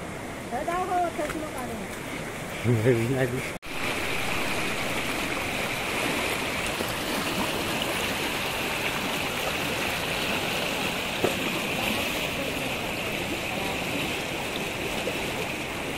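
Swollen monsoon stream in rural Konkan, Kumbhavade, Rajapur, rushing strongly in a loud, continuous roar after a brief stretch of speech at the start.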